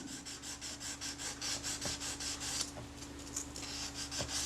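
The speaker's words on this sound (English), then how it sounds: "Now I've got some 600 grit wet and dry here. I'll just run it down that surface." Fine 600-grit wet and dry paper is rubbed back and forth over the cam surface of a Retina-Curtagon 35mm f/2.8 lens, giving a quiet, close, rhythmic scratchy rasp of repeated short strokes.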